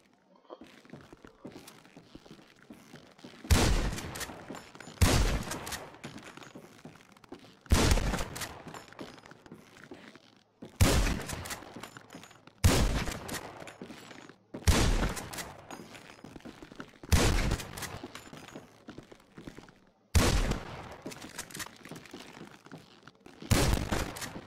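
Shotgun fire rings out during weapons training in a roleplay video game, about ten loud, sharp blasts in evenly spaced pairs and singles, each with a short decaying tail over quiet room noise.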